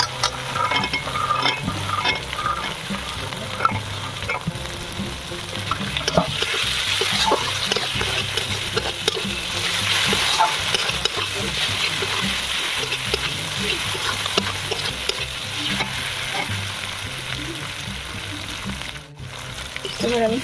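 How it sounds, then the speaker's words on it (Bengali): Green peas and spices fry in an open wok, with continuous sizzling and the scrape and clatter of a spatula stirring, fairly close and steady. "এই সমস্ত মশলাগুলো একসঙ্গে ভালো করে কষিয়ে নেব"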